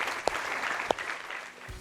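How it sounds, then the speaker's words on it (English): Audience applause, a quiet, steady patter of clapping that runs the whole time, broken by two sharp, louder claps near the start. "Give her a round of applause, it was pretty good."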